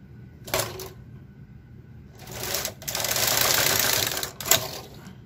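A KR 230 knitting machine knits rows of a long-sleeve sweater back, its carriage passes making rapid, close mechanical clattering: one short pass, a longer sustained run, then another short burst, with quiet gaps between.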